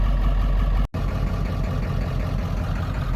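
A Ford 7.3 diesel truck engine idles steadily with a low, rough rumble, close by, briefly cut by a short dropout near the start.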